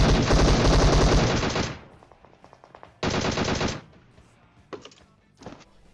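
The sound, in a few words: DP machine gun firing in PUBG video game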